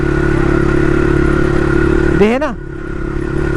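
A motorcycle idles and runs steadily on a rough dirt trail during a Crossfire time-trail ride, with a sharp rising rev near the end before the engine settles again; someone speaks briefly over it.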